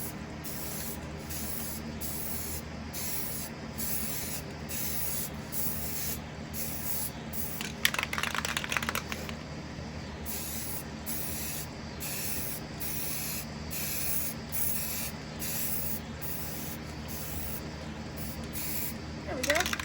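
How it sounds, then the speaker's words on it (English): Spray primer hisses from a can in short, regularly repeated bursts onto a Walmart ghost trap being painted, fairly close and steady, with a brief rattle partway through. "Okay, we're gonna start priming this now."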